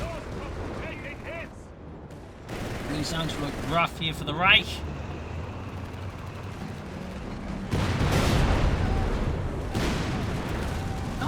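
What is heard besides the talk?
Bishop artillery bombarding bases in Company of Heroes 3 video game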